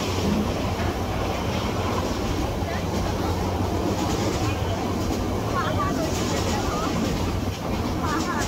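The Paryatak Express passenger train travels from Dhaka to Cox's Bazar with a loud, continuous rumble and rattling wheel clatter heard from inside the carriage.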